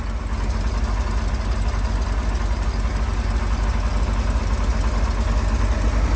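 A 1972 Chevrolet truck with a 366 V8 and a freshly serviced carburetor idles steadily, a loud, even low rumble with a fast regular pulse throughout and no talking.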